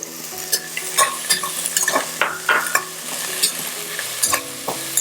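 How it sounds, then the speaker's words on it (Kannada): Fenugreek leaves sautéing with ginger garlic paste in a pan give a steady close sizzle, broken by repeated scraping and stirring strokes of a spoon against the pan; no one speaks. "ಇದನ್ನು ಕೂಡ ಹಾಕಿ ಚೆನ್ನಾಗಿ ಬಾಡಿಸ್ತಾ ಹೋಗಬೇಕು"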